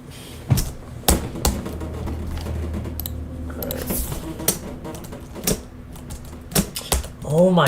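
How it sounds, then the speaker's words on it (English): Computer keyboard keys click in irregular bursts while typing, close and sharp, with a low hum underneath and occasional speech mixed in. "can you hear a difference in the sound of my clicks right now?"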